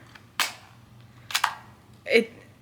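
A tagging gun fires plastic fasteners through an item being prepped for a vintage market: three sharp, close snaps spaced about a second apart over quiet room tone.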